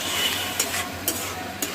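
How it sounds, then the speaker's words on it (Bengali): A spoon stirs lentil dal with fried spices in a pan, giving a steady soft sizzle with a few distinct scraping strokes, close up and without speech. "নেড়ে দিচ্ছি"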